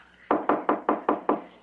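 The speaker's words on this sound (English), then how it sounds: "So, knock." Six evenly spaced, solid knocks on a door, a radio drama sound effect, heard up close and alone.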